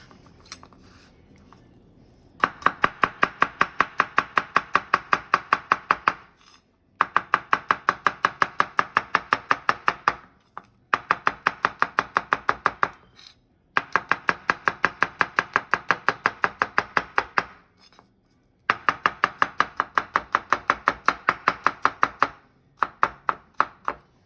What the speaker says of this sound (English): Do a little chopping real quick.